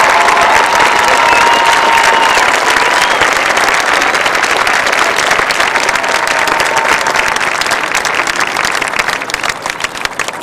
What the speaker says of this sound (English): please join us in a warm round of applause for the officers, drill instructors, and company corpsmen of Company E